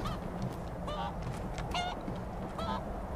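Chickens cluck in Skyrim, a fantasy role-playing video game, giving a few short, repeated clucks that rise clearly above steady background ambience.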